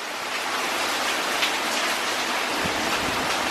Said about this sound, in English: The rain is coming down sideways down the street.